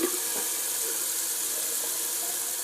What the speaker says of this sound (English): Just going to rinse off the razor.